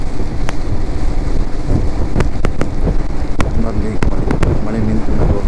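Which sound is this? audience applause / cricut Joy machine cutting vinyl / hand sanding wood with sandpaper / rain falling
rain falling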